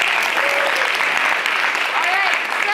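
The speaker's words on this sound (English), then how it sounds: "so please give a round of applause to her." A theatre audience at a new play festival claps in a loud, dense round of applause, with a few voices mixed into the steady clapping throughout.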